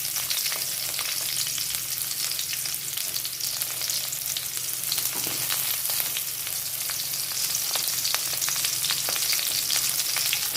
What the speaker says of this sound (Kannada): ತೆಂಗಿನ ಎಣ್ಣೆ ಹಾಕಿದ ಮೇಲೆ ನೀರುಳ್ಳಿ ಕಟ್ಟು ಮಾಡಿ ಒಂದು 2 ನೀರುಳ್ಳಿ ಹಾಕಿಕೊಳ್ಳಿ